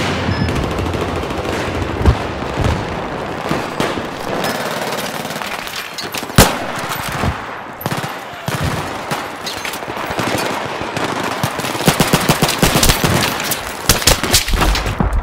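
Battlefield 3 gunfire on Kharg Island in a team deathmatch rattles almost nonstop: heavy automatic bursts, sharp single cracks and distant shooting layered in a loud, chaotic battle.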